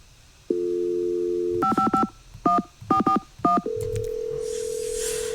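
A dial tone in a Nancy Drew video game gives way to a string of touch-tone dialing beeps in uneven bursts, followed by a steady ringing tone, clear and close with no voices.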